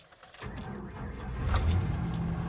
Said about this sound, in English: So we're going to go ahead and start the truck up.